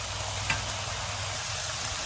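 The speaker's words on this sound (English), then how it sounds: "while we're stir frying this" Beef stir-fries with a steady sizzle in a hot pan, with a faint scrape of stirring, constant and close, no talking.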